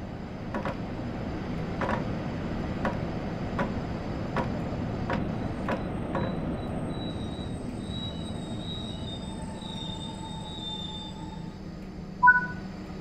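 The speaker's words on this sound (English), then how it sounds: "Bring the train to a stop now by applying the train brake." A train slowing to a stop in the Train Sim World 5 game: a steady low rumble with evenly spaced wheel clacks that fade out, then thin high brake squeals near the end.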